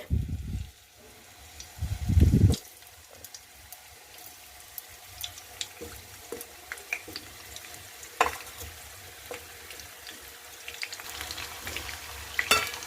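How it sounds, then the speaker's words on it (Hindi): Onions frying in oil in a pan for an onion sabzi: a soft, steady sizzle with scattered crackles and pops, preceded by a couple of brief louder bumps as the onions go in. "अब हम सारे प्याज को तेल में इस तरीके से डाल करके इसे फ्राई कर लेंगे।"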